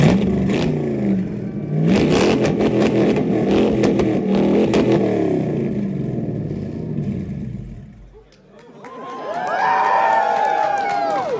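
Devel Sixteen supercar engine firing up and revving, a loud rumbling roar that rises and falls with rapid crackles, then dips briefly before a fresh surge of revs. Crowd noise and cheering mix in.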